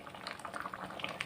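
Lentil dal boiling in a pot, soft bubbling pops and gurgles in quick irregular succession, quiet and close with no talk.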